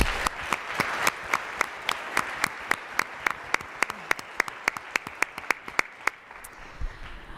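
At a university character lecture, an audience applauds at the end, a sustained soft patter of clapping dominated by one nearby pair of hands striking in a sharp, regular rhythm before it tapers off.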